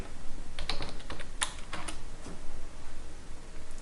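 Fingers type on a computer keyboard in quiet, uneven bursts of soft, close clicks with brief pauses between them.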